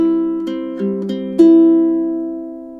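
A ukulele plays measure 7 of a song, a few strummed and plucked chords ringing close and clear, with the last one sustaining and fading out alone.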